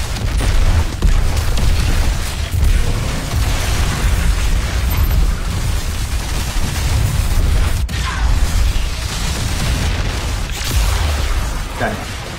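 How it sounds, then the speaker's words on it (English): Dense, rumbling explosions and booms in Destiny 2 roll on continuously, loud and layered, with a few sharper bursts punctuating the chaotic noise. "Wow, look at all the explosions."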